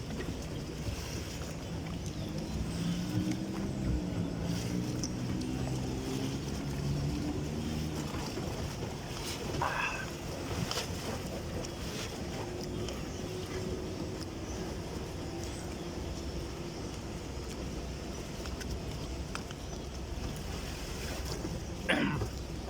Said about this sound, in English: At this time the boats are still active, you know.